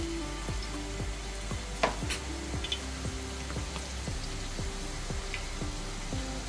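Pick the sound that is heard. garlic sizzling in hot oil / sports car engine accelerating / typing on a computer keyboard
garlic sizzling in hot oil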